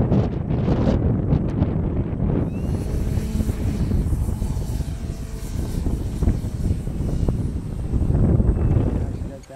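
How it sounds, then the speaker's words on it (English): Heavy wind blows during the maiden flight of an Addiction XL RC plane after rain, a constant loud rushing roar on the microphone with a faint engine-like drone mixed in. "We've got way too heavy winds."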